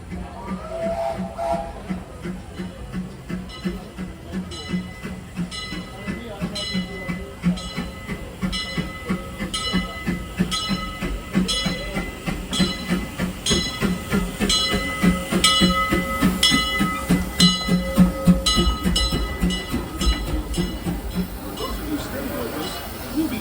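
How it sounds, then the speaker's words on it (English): A Disneyland Railroad train rolls in at night, a steady clickety-clack of wheels and a low rumble growing slightly louder over the ride, with a voice heard over the rolling. "The Disneyland Limited, now arriving from a trip around Walt Disney's Magic Kingdom"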